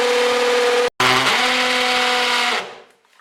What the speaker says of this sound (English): flick to the hammer section and complete the rest of the hole